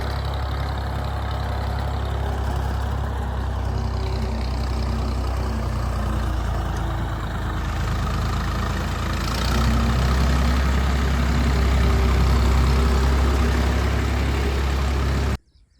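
A tractor engine idles steadily with a deep, constant rumble, growing slightly louder partway through, then cuts off abruptly at the end.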